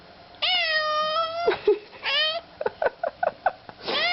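A cat meows repeatedly and insistently, greeting its owner after two weeks apart: long drawn-out close cries followed by a quick run of short chirping meows, then another long wail.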